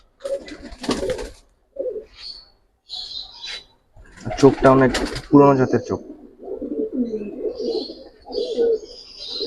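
Old-breed Tota pigeons, also called Giribaj, coo repeatedly at a loft, with chirps mixed in, while people talk close by.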